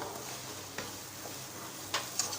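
Salt being stirred into a sizzling frying mixture in a pan for a red poha and moong dal tiffin, with a soft steady fry and a few faint scraping clicks of the spoon, no talk.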